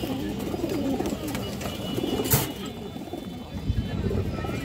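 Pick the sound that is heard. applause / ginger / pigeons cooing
pigeons cooing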